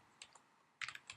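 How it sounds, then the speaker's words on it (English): A few quick keystrokes on a Mac computer keyboard come through close and soft, with a single tap followed after a pause by a short run of clicks. "I'll just type my name."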